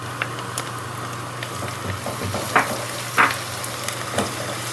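Garlic and ginger fry in oil with berbere spice in a pot, a steady close sizzle broken by several sharp scraping stirs and clinks of the utensil, with no voices.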